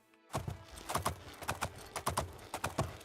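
Horse hooves clip-clopping in the video game Oblivion, a steady, close, rhythmic run of hoof strikes starting abruptly after a moment of silence.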